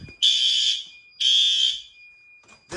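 A fire alarm horn strobe blares during a building test: two loud, steady, piercing blasts about a second apart, with the start of a third cutting in at the end.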